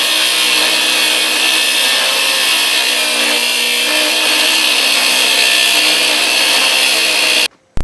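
A power drill bores through two clamped pieces for a tungsten-cored hammer, running loud and steady for about seven seconds before abruptly stopping, followed by a brief click.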